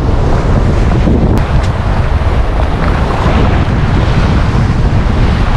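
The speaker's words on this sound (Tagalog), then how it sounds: "lakas ang hangin talaga" Strong coastal wind in Oriental Mindoro, Philippines, roaring and buffeting the microphone continuously, with a wash of waves underneath, loud and unbroken.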